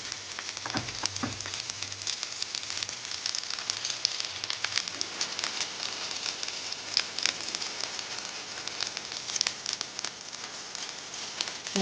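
Paneer roasts in a hot pan with a steady, dense sizzle and crackle close by, crisp popping spread evenly throughout with no voices.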